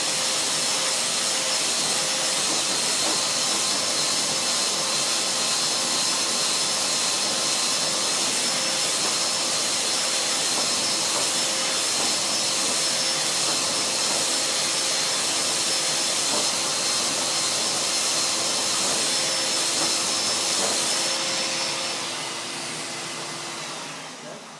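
Festool Rotex 125 and ETS 125 random-orbit sanders work a wooden workpiece, a loud steady whining hiss with faint tonal hum that holds for about twenty seconds before tapering off at the end.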